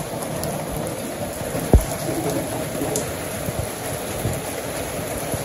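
Light rain falls steadily outdoors in a village in the evening, a continuous soft patter on surfaces with one brief louder thud partway through and no voices.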